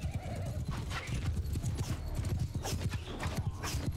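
Cavalry horses charge across a battlefield in Mount & Blade II: Bannerlord, a thick rumble of pounding hooves with whinnies rising over the din, loud and continuous.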